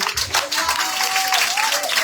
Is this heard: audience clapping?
yes